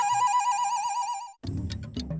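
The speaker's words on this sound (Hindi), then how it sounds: "मोबाइल पे भी नया ट्यून बज रहा है आजकल।" A mobile phone plays a new ringtone tune as a bright, warbling electronic melody for just over a second, then cuts off abruptly and is followed by muffled low thumping.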